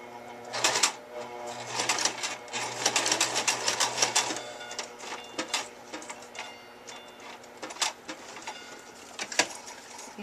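A sewing machine running steadily while stitching paper-pieced quilt blocks, a close mechanical whir with rapid ticking needle strokes and brief pauses between short runs.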